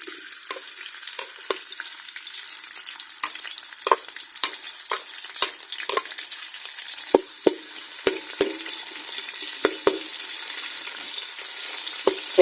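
Onions fry in oil in a cooking pot with a steady, bright sizzle that runs without a break. Scattered close clicks and scrapes from stirring cut through it.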